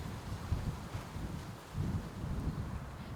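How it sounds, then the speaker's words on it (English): Wind blusters steadily against the microphone in an allotment garden, a low rumbling roar that swells and eases without any other clear sounds. "very windy garden"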